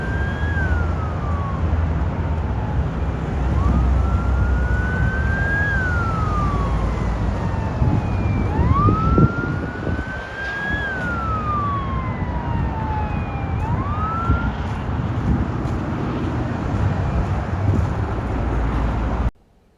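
Colorado Springs police car sirens arriving at a highway crash scene, wailing tones sweeping up and down repeatedly, fairly loud over a steady traffic rumble, ending abruptly.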